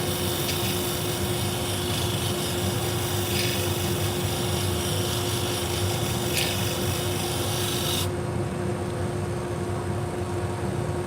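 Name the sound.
sharpening salon shears to a convex edge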